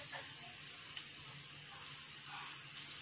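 Dry red chilies and sesame seeds roast in a pan with a soft, steady sizzle and faint crackle, quiet and continuous, without any talking.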